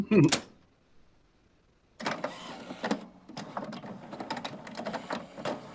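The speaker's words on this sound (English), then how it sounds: "Like every inkjet printer, wait 45 seconds." An inkjet printer runs through its startup cycle after a magenta cartridge is inserted, a faint click comes first, then a lull, then a steady stream of mechanical clatters and whirs.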